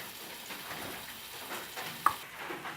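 Raw mango chutney being stirred in a pan, a soft continuous sizzle with light scraping and one sharp click, close and fairly quiet with no talking.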